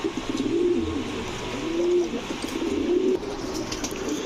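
Pigeons coo in repeated soft, low rolling phrases, roughly one per second, close and clear over a quiet room hum at a loft of racing and high-flyer birds, including a red checker racer hen.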